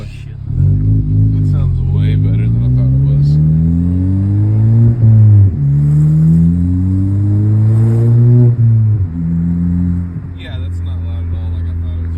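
A car fitted with a 2J Racing exhaust accelerates through repeated gear pulls, each a rising drone that drops at the shift, loud and close from inside the car, with occasional talk.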